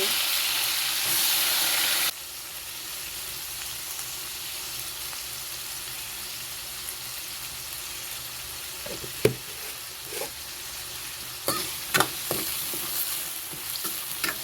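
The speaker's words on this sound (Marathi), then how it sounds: "एक चमचे जिरे टाकायचे जिरे मोहरी चांगली तळून द्यायची आहे" Soft sizzling of cumin and mustard seeds frying in hot oil, with occasional stirring clinks and taps over a low, steady background.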